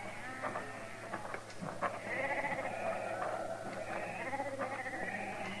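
Sheep bleat repeatedly in a radio drama scene, several animals calling close together in a steady, overlapping flock chorus with no talk over them.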